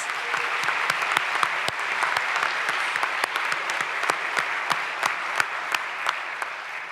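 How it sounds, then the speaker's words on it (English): A crowd applauds steadily at a university opening convocation, sharp claps scattered through a continuous wash of clapping that carries on for several seconds. "Let's give them another round of applause"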